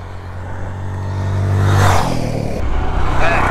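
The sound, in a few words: TVS Apache RTR 160 4V motorcycle engine starting and revving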